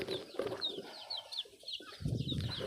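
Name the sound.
chickens and chicks in a coop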